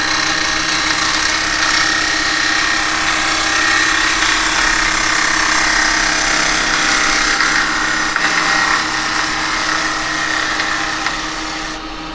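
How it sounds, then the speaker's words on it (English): A spindle gouge cutting cherry wood on a woodturning lathe gives a continuous loud, close scraping hiss with a steady motor hum running beneath, unbroken throughout. "I'm going to come in with my spindle gouge. I'm going to pick that cut up."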